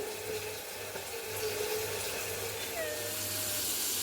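Salt water poured onto cut vegetables makes a soft, continuous trickle and splash, faint and steady, with a low hum underneath.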